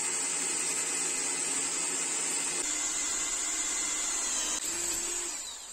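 A power drill with a 4.2 mm bit bores holes in old wire cutters, a loud continuous high whine held close up that shifts pitch slightly as it cuts, with no talking.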